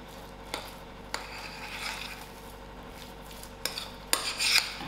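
Mackerel fish cake ingredients and mayonnaise being mixed in a bowl, with a few light clinks of a utensil, soft stirring and a louder scraping clatter near the end, close and without speech.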